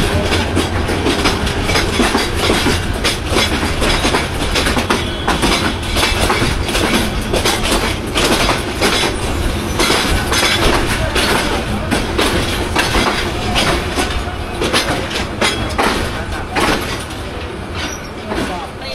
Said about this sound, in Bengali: এই হচ্ছে সেই ব্রহ্মপুত্র এক্সপ্রেস